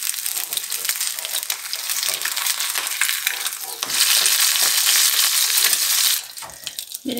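Egg frying in a pan while being flipped for huevos rancheros, a continuous crackling sizzle that grows louder and denser midway, then drops back with a few scrapes.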